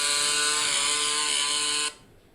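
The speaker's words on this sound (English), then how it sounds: "Test 1, 2, 3 with chainsaw noises in the background." Steady, loud chainsaw engine drone played back through a smartphone speaker, holding level for about two seconds before cutting off abruptly to quiet room tone.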